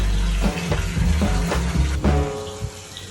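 Water poured from a container into a narrowboat's water tank, a close gurgling, splashing pour with uneven glugs and surges, loud and steady, with no talk.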